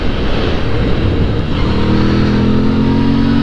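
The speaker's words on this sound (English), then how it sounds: "even with the standard exhaust pipes on, this has got a good rumble to it" A loud, close Moto Guzzi V7 motorcycle engine with standard exhaust rumbles steadily with a deep, throaty exhaust note, the pitch holding fairly even throughout.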